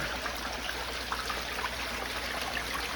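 Water from a recirculating pump runs into a tub and flows through a sluice, giving a steady broadband trickle and rush that stays even and close throughout, with no voices.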